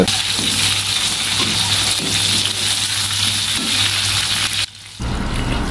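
Steady, loud sizzling of chilies frying in hot oil, continuous crackle throughout, with a brief dip near the end.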